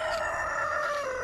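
A Belgian Shamo rooster gives a loud, sustained crow, heard close up and alone over a brief stretch.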